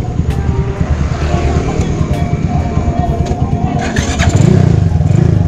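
A Honda CB100 motorcycle engine while riding on a slope near Bromo, with a steady loud throbbing drone and wind rush throughout that swells slightly louder near the end as the throttle opens.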